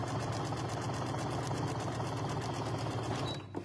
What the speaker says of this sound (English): Now you might notice I'm stopping and starting the machine with a button.